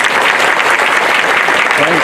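Audience at a kirtan applauding the performers, loud and dense clapping from a large crowd, sustained evenly for a couple of seconds with no talk over it.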